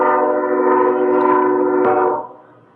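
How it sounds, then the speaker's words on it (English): A passing train blasts a loud, sustained chord horn for about two seconds, then the horn cuts off and the rumble fades quickly, with no talking. "I'm going to apologize for the train going by right now."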